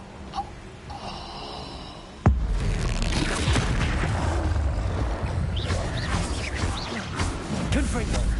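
Explosive spell blasts from the Expulso curse in Hogwarts Legacy: a sharp crack followed by a heavy, sustained rumbling boom with debris, loud and close, under voices and game noise.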